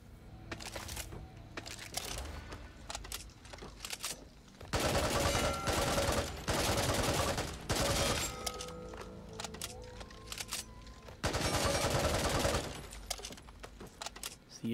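An AK-47 rifle fires in the video game Back 4 Blood, loud bursts of rapid automatic gunfire broken by short pauses, with quieter clicks and handling noises between the volleys.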